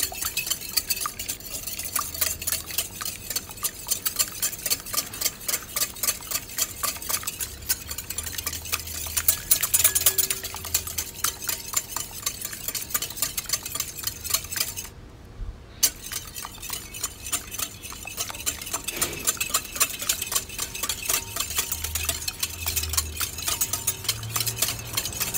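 Two eggs being beaten in a bowl for pumpkin cheesecake muffins, a steady run of rapid clinking strokes that goes on throughout at close range, pausing briefly partway through, with no talking.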